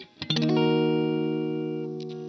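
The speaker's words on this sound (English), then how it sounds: "For some drive tones, I just turned on the Wampler Tumnus Deluxe, so yeah, so we have some dirt." A Squier Classic Vibe 50s Stratocaster rings out a single strummed chord through a Wampler Tumnus Deluxe overdrive pedal, a quick rake of strings followed by a long, slowly fading distorted sustain, with a faint pick scrape near the end.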